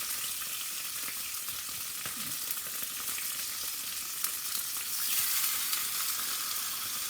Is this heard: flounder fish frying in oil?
yes